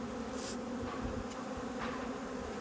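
Honeybees buzz steadily at a rooftop hive, a close, continuous drone with occasional louder passes, no voices.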